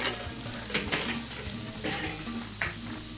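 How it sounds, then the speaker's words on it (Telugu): Cabbage fries in a pan for veg Manchurian, giving a steady close sizzle with repeated stirring scrapes and light spatula knocks against the pan, with no talking. "క్యాబేజ్ వేసిన తర్వాత ఒక హాఫ్ మినిట్ ఫ్రై చేసుకుంటే చాలండి"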